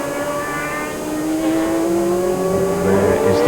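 A historic Tyrrell 012 Formula 1 car races at Magny-Cours, its loud, close engine howling in a steady, harmonic-rich note that climbs in pitch as it accelerates.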